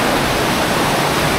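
Broadband rushing of water at its source in a woodland stream, a steady, loud, close wash with no breaks and no voices.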